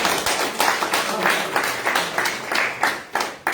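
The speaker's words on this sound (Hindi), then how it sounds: "तालियों से स्वागत तालियों से" An audience at a BJP headquarters induction event for youth leaders claps steadily to welcome guests, a dense run of applause with rhythmic surges that stays fairly close and loud throughout.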